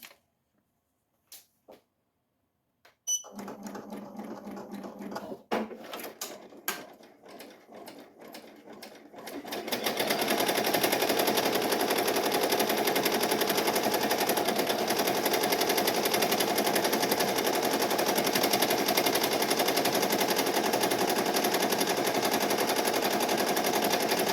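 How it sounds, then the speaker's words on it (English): An embroidery machine stitching a left chest logo onto a hoodie or polo at 650 stitches per minute starts after a few scattered clicks and taps, then settles into a loud, fast, steady rattling drone that continues to the end. "I'm gonna start the embroidery now"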